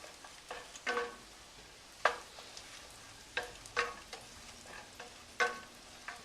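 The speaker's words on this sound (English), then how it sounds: "heat your pan and add and melt your butter and your olive oil" Butter and olive oil melting in a hot pan for farfalle with salmon, giving soft sizzling with a few sharp crackles and pops at irregular intervals, close and fairly quiet, with no talking.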